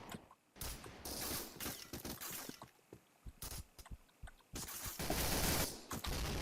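Rapid bursts of AUG DK2 rifle fire in a chaos-mode video game match, loud and close, with repeated volleys and short gaps between them.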